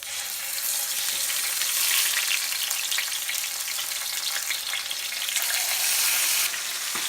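Large marinated fish pieces fry Kerala style in hot coconut oil on medium heat, giving a steady, loud, close-up sizzle with fine crackling bubbles throughout and no speech.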